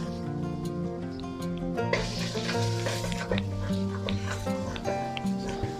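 Minced garlic and finely chopped carrot sizzle steadily in a hot pan for egg fried rice, a close and continuous crackle with scraping stirs over it and a constant background hum.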